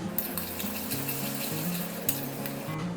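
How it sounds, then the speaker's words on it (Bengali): Spices and tomato puree fry in a pan for a prawn fritter curry, giving a continuous close sizzle broken by a few sharp scrapes and clinks of the stirring utensil against the pan. "ভালো করে কষে নিতে হবে আর দিয়ে দেবো টমেটো পিউরি"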